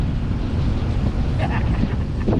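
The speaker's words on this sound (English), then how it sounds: "The wind up here is just brutal" Strong wind buffets the microphone near the Mount Washington summit in New Hampshire, a steady low roar with gusty rumble throughout and no clear speech.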